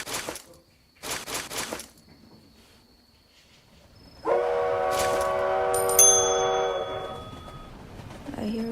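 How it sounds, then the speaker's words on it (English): A train in the Roblox video game sounds a loud sustained horn with layered tones over a rumbling rail passage, preceded by short bursts of clatter and a bell-like ding near the end. "Oh, I hear the train."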